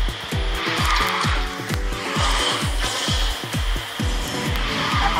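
A Jade Rabbit Reno car in the QQ Speed racing game drifts with a steady engine drone and repeated tire squeals and skids, loud and continuous with rising and falling pitch sweeps.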